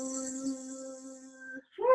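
A voice imitates a buzzing bee, making a steady, sustained hum with a rich set of overtones during a children's yoga breathing exercise. The hum runs for about a second and a half and then stops briefly. A higher, brighter vocal sound follows, close and clear.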